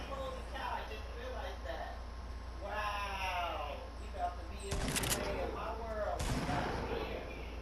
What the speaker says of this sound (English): Then he goes shooting a shotgun.